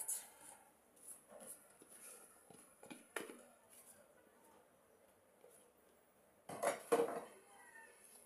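Semolina cake batter is stirred in a bowl, with faint scraping and scattered clinks of a utensil against the bowl, then a louder clatter near the end.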